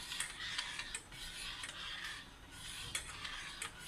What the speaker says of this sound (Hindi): तो अच्छे से मिक्स कर ले।